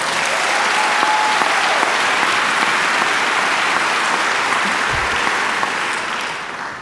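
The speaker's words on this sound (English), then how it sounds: "Please give all of those groups a round of applause" Loud, sustained applause from a large audience at a Juneteenth music concert, steady throughout and tapering slightly at the end.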